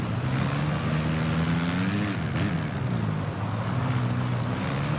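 Honda motorcycle engine revving high in third gear during a VR46 video game race at Jerez, a steady loud whine with pitch rising and dipping briefly around a corner, continuous throughout.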